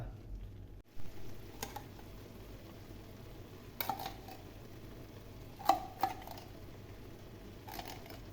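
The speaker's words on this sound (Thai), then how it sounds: "5 นาทีเพื่อให้ผักสุกนิดนึงนะครับ ผัดไปเรื่อยๆจ้ะ" Vegetables stir-fried in a pan while cooking a beef Bolognese sauce, heard as a faint, steady low sizzle with a few soft utensil scrapes and taps scattered through it.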